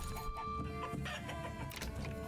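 Chickens cluck in the village-building strategy game Manor Lords, a soft, steady scatter of clucks and murmurs at low volume.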